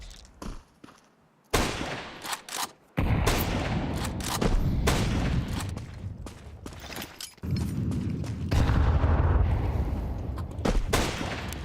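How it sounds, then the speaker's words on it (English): A grenade goes off during a professional Counter-Strike match, a loud close boom among heavy bursts of gunfire and blasts that keep going with little pause. "The old 1 damage grenade"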